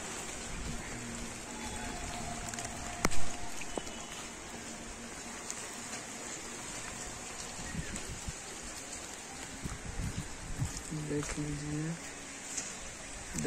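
Heavy rain pours down steadily outdoors, a dense constant hiss with patter on surfaces, while someone talks faintly beneath it.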